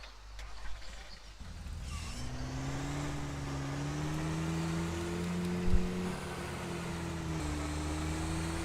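In the fishing game Call of the Angler, a vehicle is driven at Silver Strand Meadows with a steady engine hum that shifts slightly in pitch, close and moderately loud, with a brief bump partway through.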